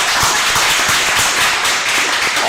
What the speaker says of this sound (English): I just thought we should all give him a round of applause